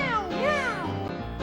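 A single drawn-out cat meow, close and clear, rising then falling in pitch.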